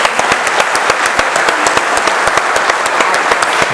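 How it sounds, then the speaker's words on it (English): Applause at a lecture, with steady crisp clapping from an audience that is loud and continuous and has no break in it. "let's do the first round of applause."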